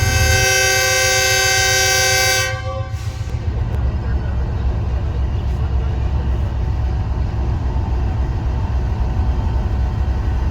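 A locomotive at Lahore Junction station sounds a long steady horn over a heavy rumbling engine, then the horn cuts off and the deep engine drone carries on loudly as the locomotive accelerates.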